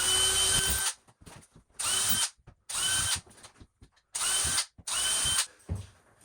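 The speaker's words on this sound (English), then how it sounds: "we got to pre-drill all of these just to help speed up the process" A power drill with a bit pre-drills holes in cement board for a bathtub shower, running in four loud whining bursts of about a second each, separated by short pauses with faint handling clatter.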